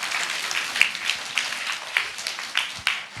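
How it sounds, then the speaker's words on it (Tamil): A church congregation at a Christmas service applauds with a soft, continuous patter of clapping, with a few sharper claps and faint high chirps standing out. "மறுபடியும் அவங்களுக்கு ஒரு நல்ல கைத்தட்டல் கொடுத்துடலாமா?"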